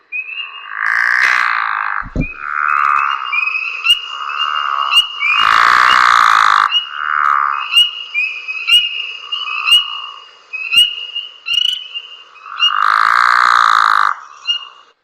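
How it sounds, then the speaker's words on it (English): Pickerel frogs give low snoring calls, each lasting one to two seconds, repeated several times and loud and close, while spring peepers whistle in repeated sharp peeps between and over them. "So that snoring noise is the pickerel frog."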